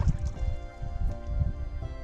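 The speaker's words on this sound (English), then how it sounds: "They stir the water like that to get the minerals and" A wild mustang stirs the water of a spring in the Nevada desert, producing close, repeated sloshing and splashing with soft wet squishes and low thuds.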